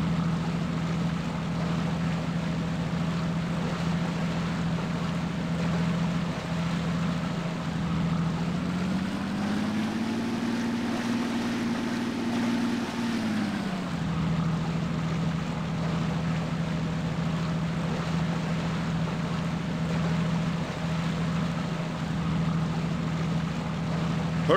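A steady, droning boat motor in the video game Mulle Meck hums low and continuous, swelling slightly louder for a few seconds midway before settling back, with no voices.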